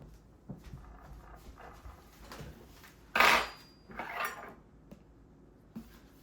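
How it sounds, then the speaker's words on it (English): Knife clinking and scraping against a plate while buttering a slice of homemade bread, a few sharp clatters amid quiet kitchen handling. "I'm gonna butter up that slice that I just cut off"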